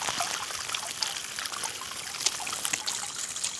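Water pours and trickles steadily as Thai sarpunti fish are released from one pond into another, a close, continuous splashing flow with no voices.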